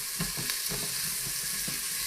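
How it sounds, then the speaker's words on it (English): Thinly sliced half onion sautéing in an Instant Pot, a low continuous frying hiss with a few soft stirring knocks, close by and alone. "I'm just going to saute that in there for a little bit"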